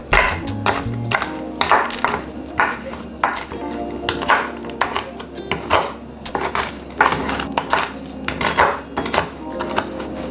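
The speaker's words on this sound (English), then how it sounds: "we also have an almond, and we'll also go ahead to just dice it into a few chunks." Repeated sharp knife taps on a cutting board in a steady chopping rhythm as almonds are diced, close up, with light clatter between strokes.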